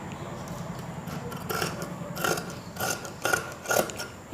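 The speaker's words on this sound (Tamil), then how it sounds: "இப்போ இதை நம்ம கட் பண்ணிடலாம்." Scissors snip through fabric while a chudidhar top with a collar neck is cut out. A few separate crisp cutting strokes come close together over a low background hum, with no one talking.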